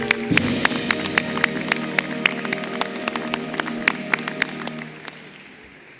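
Audience applause for class of 2019 postgraduate advanced dental education graduates at a university dentistry commencement ceremony, a steady crowd clapping with sharp individual claps standing out, fading toward the end.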